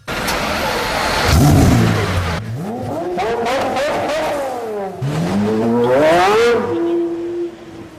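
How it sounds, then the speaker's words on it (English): A Pagani Zonda Cinque supercar engine roars loud and close, revving hard through rising gear pulls with a sharp shift drop between them before easing off at the end, with no speech over it. "I might play a clip right now of the sound of Pagani Cinque"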